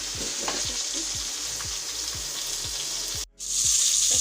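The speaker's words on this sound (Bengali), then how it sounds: "কই মাছগুলো ভাজা হয়ে গেছে" Koi fish frying in hot oil for a mustard koi curry, a loud, continuous sizzle with regular soft stirring taps, then a sudden brief drop before the sizzle returns even brighter.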